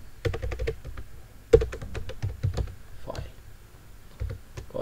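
Fingers type on a computer keyboard while entering HTML code, giving quick bursts of clicking keystrokes with short pauses between them, close and moderately loud.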